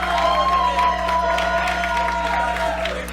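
Live crowd at a Knuckles Up bare-knuckle fight, a steady roar of cheering and shouting that holds loud and continuous throughout, with a sustained tonal hum underneath.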